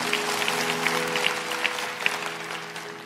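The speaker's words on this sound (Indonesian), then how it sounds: "Kasih tepuk tangan untuk Tuhan Yesus." Church congregation applauding during a sermon, a continuous full clatter of many hands with a low sustained musical hum beneath it, steady throughout.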